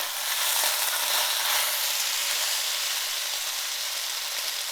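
Brussels sprouts sizzling loudly in a hot pan as glaze is stirred in, a steady dense hiss of frying with faint scraping from the stirring, continuous throughout.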